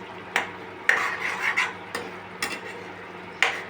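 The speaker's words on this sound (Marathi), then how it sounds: "एक दोन तीन मिनिटे चांगली शिजवून घ्यायची त्याच्यात परतावायची" Sprouted moong curry with tomato and spice paste being stirred in a pan, with a few scraping clinks of a spoon against the metal and faint sizzling between strokes, close and moderately loud.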